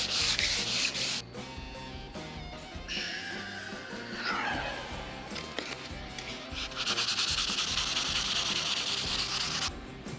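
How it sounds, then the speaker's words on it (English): Steady scraping strokes of wet sanding on paint on a C-10 truck, rubbing back and forth in bursts with short pauses between them. "Call that sweat sanding."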